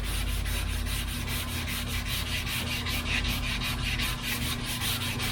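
High-build primer is sanded by hand on a Dodge crew cab in a steady back-and-forth rubbing rhythm of about three strokes a second, close and continuous with no talk.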